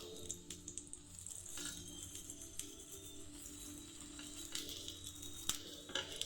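A cauliflower paratha frying in oil on a pan gives a soft, continuous sizzle with light crackles and a few scraping touches, fairly faint and close, with no voices.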